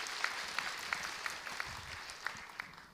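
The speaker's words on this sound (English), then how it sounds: "Let's give her a round of applause" Faint, distant applause at a university opening ceremony, a soft steady patter with a few sharper individual claps standing out, no voices over it.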